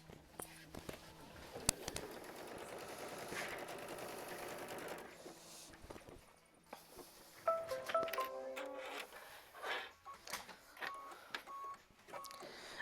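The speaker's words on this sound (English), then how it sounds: "we're going to sew down machine stitch step 7, which is going to tack that down for our flip and fold" A sewing machine stitches fabric pieces for a quilt block, tacking a flip-and-fold seam: a steady mechanical whir runs for several seconds, then quieter irregular clicks and short bursts follow, close by.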